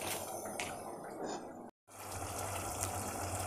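Water pours steadily into a pot while gurigaku greens are being cooked for pulagura, a continuous close splashing rush broken by one brief pause.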